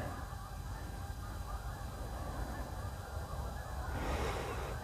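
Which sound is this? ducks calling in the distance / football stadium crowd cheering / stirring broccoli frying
ducks calling in the distance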